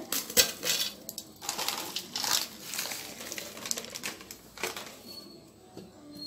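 Pieces of Marie biscuit clatter and rattle into a metal mixer jar, a series of sharp, close clinks and crisp knocks spread unevenly over several seconds with no talking.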